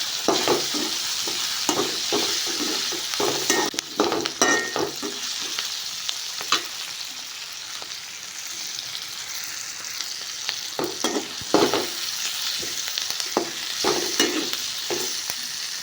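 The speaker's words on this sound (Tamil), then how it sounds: "தக்காளி எல்லாத்தையும் போட்டதுக்கப்புறம் நல்லா வதக்கிட்டு இது 2 நிமிஷம் 3 நிமிஷம் வதக்கணும்" Tomatoes sautéing in a pan for mango and drumstick sambar, with a steady sizzle and repeated spatula scrapes and clacks in an uneven rhythm, close and moderately loud.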